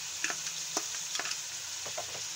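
Keema frying in a pan as garlic ginger paste is stirred in for a khara masala aloo keema, a steady soft sizzle broken by several light scraping stirs, close and without talk.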